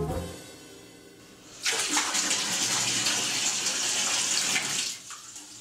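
Tap water rushes into a bathtub in a steady, close gush that starts abruptly, runs for a few seconds and then cuts off, leaving a quiet room with no voices.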